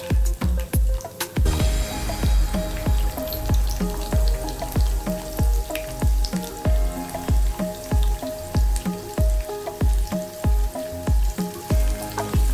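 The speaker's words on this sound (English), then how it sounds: "have to fry till the color changes. Onions are lightly sauteed" Onions sizzle steadily in a hot pan for a Nepali-style dry pork curry, a continuous close frying hiss under a loud, regular thumping beat.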